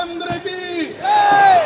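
Crowd at a Vijayadashami (Dussehra) gathering at Nehru Stadium, Roorkee, raising a loud chanted slogan of Jai Shri Ram, voices swelling together into a sustained shout at the end of the short burst.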